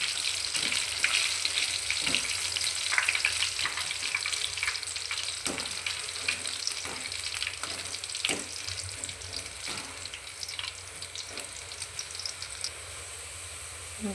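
Soybean kabab pieces fry in hot oil in a pan, a steady close sizzle with small crackling pops and a few clinks of a utensil, no voices.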